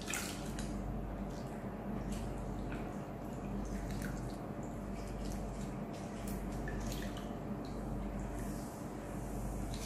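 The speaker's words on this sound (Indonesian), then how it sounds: "Setelah ini kita akan bilas dia di air yang mengalir ya" Steady running water pours from a tap over a scuba face mask being rinsed, a continuous close hiss with small splashes and drips scattered through it.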